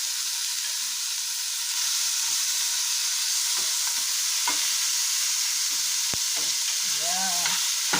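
Mixed colorful vegetables stir-fry in a pan after fish has been fried, giving a steady bright sizzle throughout with a few sharp scrapes and clinks of a utensil near the end.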